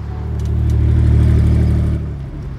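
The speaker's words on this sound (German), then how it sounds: "Das ist der Wagen, der mich fast umgebracht hat." A car engine rumbles steadily and builds in loudness as it draws closer, holding a strong low drone before easing off toward the end, with no voices over it.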